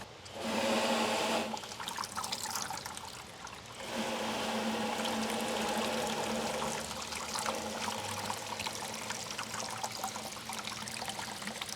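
Water rushes and trickles steadily through a 3D-printed rainwater downspout filter nearby, a continuous splashing flow that briefly softens before surging back strongly.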